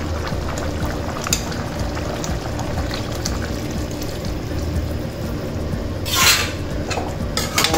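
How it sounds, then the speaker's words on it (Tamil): A pot of kaaramani (black-eyed pea) gravy bubbles at a steady simmer, with light clinks of a pot or utensil and a brief pouring splash near the end. "பண்ணி பார்த்தோம்னா நல்லா கொதிக்கிது குழம்பு"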